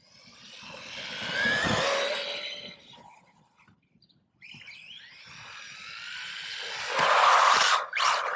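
A JIUSI Race WB12 Pro RC buggy races around with a high electric motor whine that rises and falls. The whine fades briefly in the middle and then surges back louder as the buggy speeds up again.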